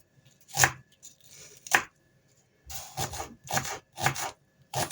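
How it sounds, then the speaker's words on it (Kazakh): Onions are chopped on a board in a kitchen, with sharp, close knife strikes arriving in separate bursts and short pauses between them, with no talking. "тағы бір екі пиязды алып тураймыз"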